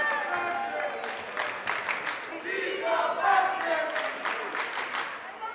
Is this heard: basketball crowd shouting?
yes